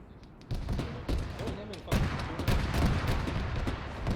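Rapid cannon fire and explosions in a military video game crackle and boom in dense, overlapping bursts, fairly loud and continuous with sharp onsets throughout.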